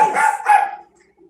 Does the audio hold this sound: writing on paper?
no